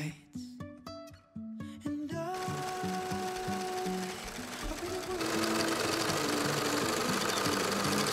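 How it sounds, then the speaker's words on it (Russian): A sewing machine stitches cotton fabric pieces for a face mask, its rapid mechanical whirring running steadily and close after a few short starting bursts. "Как нельзя кстати, у нас под рукой оказался оверлок и швейная машинка."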